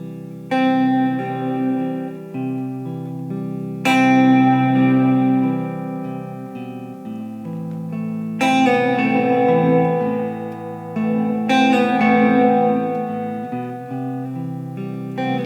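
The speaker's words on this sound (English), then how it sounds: "if I pick really softly, the gate's not letting any of that sound into the reverb, but as soon as I get a little bit louder" Electric guitar played through a TC Electronic Hall of Fame reverb pedal with its gate engaged: loud sustained chords ring out in long washed reverb tails, swelling and decaying in several separate strummed phrases with no talking.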